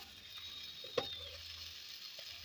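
Spinach leaves tossed into a hot pan of fried vegetables for a Bengali palong shaak ghonto, giving a faint steady sizzle with a soft thump as the greens land.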